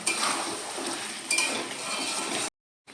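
Kasuri methi stirred into a pan for doi aloo, with soft scraping and light clinks of a spoon on metal under a faint sizzle, ending abruptly.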